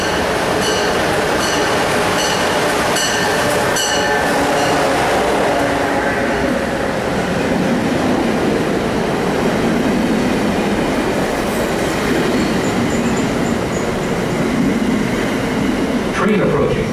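An MBTA or Amtrak train arrives at Route 128 station, its steady loud rumble and rolling wheels filling the platform for the whole stretch, with a repeated warning tone near the start and brief wheel squeals later.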